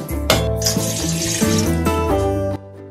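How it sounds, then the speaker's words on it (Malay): Water pours steadily from a tap into a cooking pot for coconut-milk cabbage, a continuous close splashing and gurgling that stops abruptly near the end. "Untuk langkah pertama, masukkan air."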